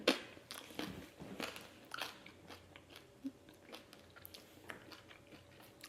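Close, crisp bites and crunching into a homemade corn tortilla chip fried in oil, a few sharp cracks followed by softer chewing crunches, heard alone in a quiet room.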